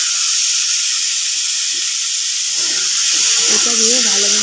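Ridge gourd and potatoes frying in a pan give off a steady, fairly loud hiss and sizzle throughout. A voice speaks over it toward the end.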